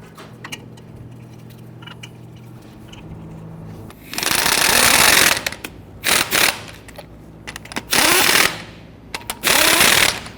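Lug nuts are snugged down on a 2010-2019 Ford Taurus wheel with a power impact tool, several loud rattling bursts of a second or so each separated by pauses, preceded by quieter clicking and handling noises.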